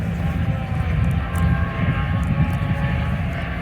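A low, steady engine drone from a Spitfire among vintage aircraft and Bugatti cars at the Goodwood Revival, a continuous rumble heard from some distance with faint outdoor crowd noise.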